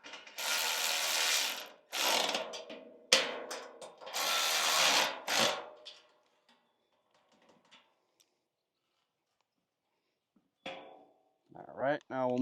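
A ratchet with a 13mm socket tightens nuts and bolts while a clay thrower is assembled, giving several bursts of rapid clicking over about six seconds, then a quiet stretch before brief talk at the end.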